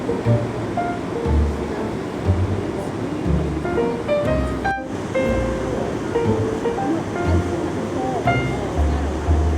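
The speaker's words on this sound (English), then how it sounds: "It's a waterfall." Steady rushing water roars without pause, a waterfall's constant wash in Bath, with voices faintly audible over it.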